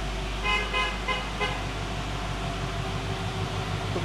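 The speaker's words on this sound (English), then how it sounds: "Somebody's honking on." A car horn toots in a few short honks over a steady, loud mechanical drone and engine rumble in a garage setting.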